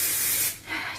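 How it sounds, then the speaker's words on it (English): Aveda Air Control light aerosol hairspray sprays in a loud, close hiss that runs for about half a second, briefly eases, then resumes as a second burst. "I'm going to spray this air control hairspray by Aveda."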